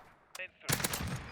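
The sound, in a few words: AR15 assault rifle gunfire in a video game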